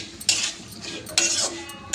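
A metal spatula mixes a vegetable fry made with mustard oil in a pan, giving scraping, clinking strokes in uneven bursts, close and moderately loud with no talk.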